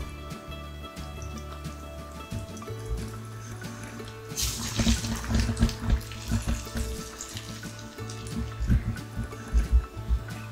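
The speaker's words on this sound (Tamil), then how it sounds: "இப்ப எண்ணெயில வடை தட்டி போட்டதுக்கு அப்புறம் ஒரு 2 நிமிஷம் கழிச்சு தான் நம்ம திருப்பி போடணுங்க" Cauliflower vadai frying in hot oil, a steady bubbling sizzle with bursts of crackling spatter growing louder partway through, close up.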